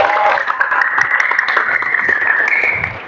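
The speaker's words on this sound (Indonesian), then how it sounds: "Tepuk tangan buat kalian." A class of eleventh-grade students claps together at the end of a physical education lesson, a dense, steady patter of many hands that carries evenly for about three seconds.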